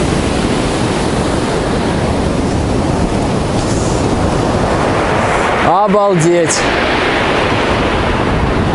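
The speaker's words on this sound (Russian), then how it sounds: "Смотрите, какая волна, ребята!" Sea waves crash loudly and continuously onto Chkalovsky beach in Adler, Sochi, a steady roaring surf with a man briefly exclaiming over it.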